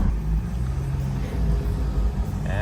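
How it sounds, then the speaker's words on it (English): Steady low engine rumble of traffic heard from inside a van while stopped in a jam, a continuous close drone with faint background noise and no talking. "And we are once again sitting in traffic."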